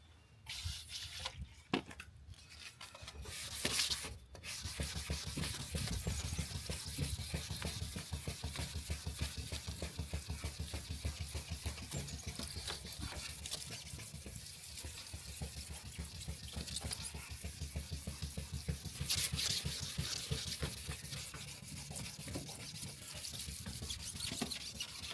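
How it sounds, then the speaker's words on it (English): Wet sanding with 2000 grit sandpaper lubricated by dish liquid gives a steady, continuous wet rubbing and swishing, close up, with brief louder scrapes at the start and no talk. "I take a little bit of dishwashing liquid or something just slick and 2000 grit sandpaper."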